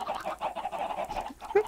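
Chickens in the Minecraft video game cluck in a steady run of short, close calls during a UHC match, ending with a slightly louder squawk.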